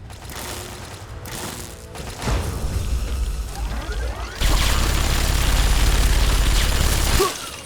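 Video game gunfire in Fallout 3: a few loud bursts early on, then a sustained stretch of rapid, dense shooting that cuts off near the end.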